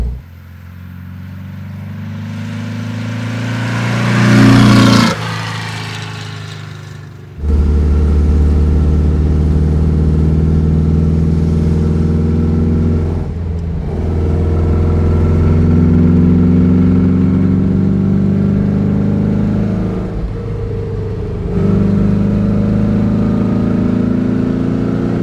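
A 1963 Porsche 356 B T6 Cabrio, tuned to about 160 hp, revs and accelerates hard, its engine rising to a loud climb, dropping briefly at a gear change, then pulling strongly again with steady droning tone and short dips.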